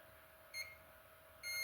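Multimeter continuity tester probing capacitors on a Nintendo Switch board, one probe on ground: two short, faint electronic beeps a second apart over quiet background hiss.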